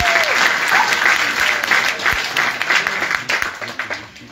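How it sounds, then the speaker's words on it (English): Seminar audience at a youth resource centre purpose and self-discovery event breaks into sustained applause, a dense wash of many hands clapping loudly throughout, slowly thinning toward the end, with a voice faintly audible beneath. "Give yourselves a clap of hands."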